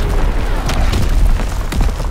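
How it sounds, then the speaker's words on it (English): Incoming enemy artillery in Call of Duty WWII makes a loud, low, rumbling boom with sustained heavy low-end rumble, close and dominant. "Incoming enemy artillery."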